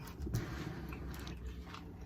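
Someone bites into and chews a Hawaiian poke bowl close to the mic, with soft, wet mastication sounds running steadily through a short stretch.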